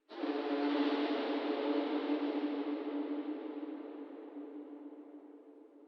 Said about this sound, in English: the sample is routed straight to the reverb large